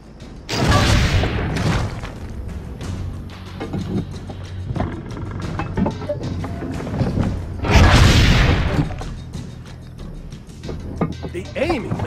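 Two heavy cannon blasts sound in Assassin's Creed Brotherhood, each a loud, booming thud with a rumbling tail, separated by mechanical creaks and clanks of the cannon being worked.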